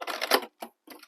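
A sewing machine backstitching the zipper seam of a fabric crossbody bag gives three short, close whirring bursts of stitching with brief pauses between them.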